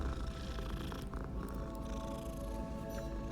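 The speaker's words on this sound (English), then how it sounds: "A cat." A cat purrs steadily in the Hogwarts Legacy video game, a soft continuous rumbling purr with no talk over it.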